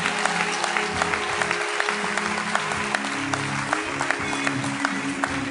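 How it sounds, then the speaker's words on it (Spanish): A church congregation claps together in a lively, fairly steady rhythm, many hands close and loud over a low murmur of sound. "Vamos, fuerte las palmas al Señor."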